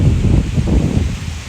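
Cold wind blowing outdoors, loud close gusts buffeting the microphone with a low rumbling rustle that surges and eases.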